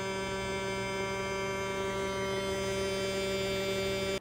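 A Bambu Lab 3D printer's AMS filament unit, with broken filament stuck inside, gives off a steady, even electrical hum with a buzzing edge. It holds at a constant level for several seconds, then cuts off abruptly.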